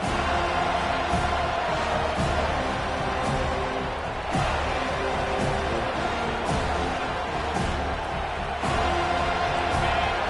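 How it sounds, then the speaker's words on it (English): Stadium crowd in the College Dynasty football video game, a steady dense roar of many voices filling the whole stretch with recurring swells of cheering, loud and continuous with no distinct speech. "This crowd bringing an ear-splitting welcome to their visitors."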